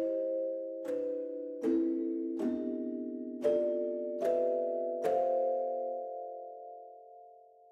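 Sustained-with-pedal piano-like articulation from the Nucleus 1.3 orchestral sample library: six struck chords, about one every 0.8 seconds, each ringing on and overlapping the next under the pedal, a low note held beneath, moderately loud with no talk.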